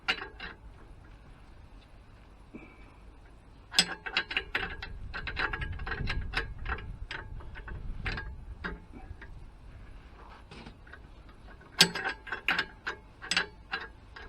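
A ratchet with a 25mm socket works on the front lower suspension arms of a Range Rover L405, sounding as irregular runs of sharp clicking over faint background rumble, close and clear, with no voices.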